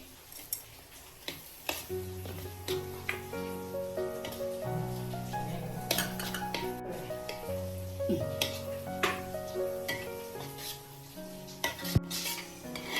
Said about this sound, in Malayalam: നല്ലോണം ഇളക്കി കൊടുക്കാം. ഇളക്കൽ നിർത്തല്ലേ, ഇളക്കൽ നിർത്തി കഴിഞ്ഞാൽ അടി പിടിക്കും.